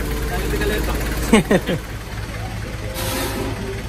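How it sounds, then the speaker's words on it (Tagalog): A car engine idles with a steady low hum, a brief burst of talk rising over it partway through. "narinig mo na lang yung onda na makina"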